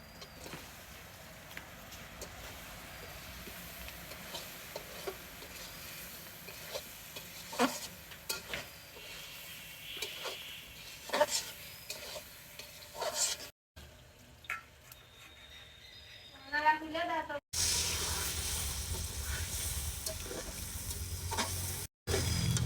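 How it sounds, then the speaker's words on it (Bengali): Potatoes and green chilies fry in a pan over a village cooking fire, giving a steady sizzle with scraping stir strokes, then a short quiet gap before a louder, denser frying hiss returns. "আর এই যে আলু দিয়ে দিব আর আলুর ভিতরে কয়েকটা কাঁচামরিচ দিয়ে দিলাম"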